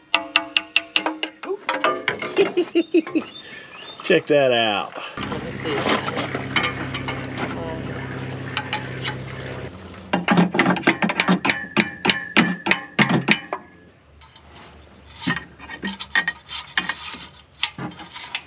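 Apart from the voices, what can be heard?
hammering out a broken dipstick with a bolt and vice grip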